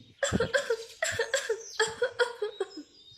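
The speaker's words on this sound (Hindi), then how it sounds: "वो लगातार खांसी जा रही थी।" A woman coughs continuously in a steady string of hoarse, voiced coughs, close and fairly loud, one after another with no pause for breath.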